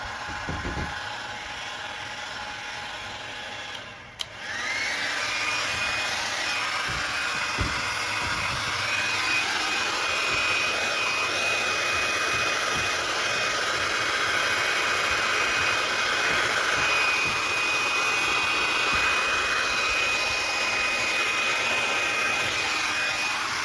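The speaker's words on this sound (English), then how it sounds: "I heat over here and kind of shrink that, it'll pull on it." A heat gun blows hot air over a Honda XL250R motorcycle seat cover to shrink it, a steady close airy roar and whine that drops briefly near four seconds, then runs unbroken to the end with faint handling knocks.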